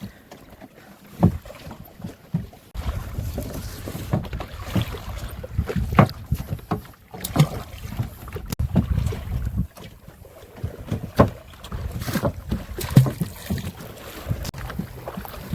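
Oars work a wooden boat upstream on a Sundarbans river, with soft rhythmic splashes and creaks spaced every second or two under steady wind noise, fairly close and quiet.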